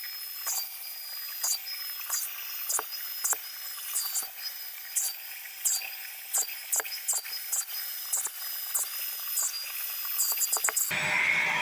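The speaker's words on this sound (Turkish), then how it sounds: "Şimdi tekrar spreyimden sıkıyorum." Kiwi KCC-4323 carpet and upholstery washing machine spraying onto a dirty sofa, a steady hiss with a high whine and repeated short bursts and clicks as the nozzle passes, close by with no talk.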